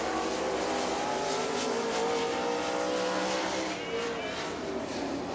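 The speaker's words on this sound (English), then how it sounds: "Don Jenkins, the next car coming out to qualify" A super late model race car roars around Rome Speedway in Georgia during qualifying, its engine a steady, high-pitched wail at speed that sweeps past with slight pitch shifts while the sound stays constant.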